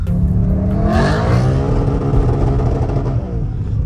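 An Audi RS4 quattro's engine revving in snowy winter conditions, loud and close, with rising and falling engine tones held steadily for several seconds.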